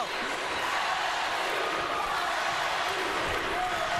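Crowd noise in a basketball arena during an LSU versus UCLA NCAA women's Sweet 16 game, a steady loud roar of cheering spectators under a commentator talking throughout.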